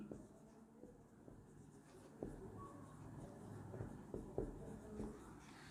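A teacher writes out a maths question for a Class 12 lesson, giving faint, scattered taps and scratching strokes against a quiet room with low background murmur.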